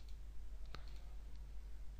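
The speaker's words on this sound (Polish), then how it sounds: "Klikam tą małą ikonkę z rogu" One crisp computer mouse click in a quiet room with a steady low electrical hum and faint ticks around it, while working in Adobe Flash CS3.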